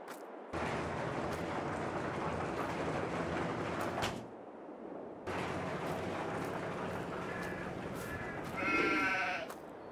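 Sheep bleating at the main farm in Farming Simulator 22 on the Campagne de France map, one clear wavering bleat near the end over continuous loud broadband game ambience.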